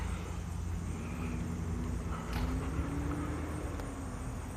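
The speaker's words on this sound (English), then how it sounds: "We've got a truck or something behind us at the moment." A truck idles and rumbles behind on a residential street, a steady low engine drone with a slowly rising whine, moderately near and continuous with no talking.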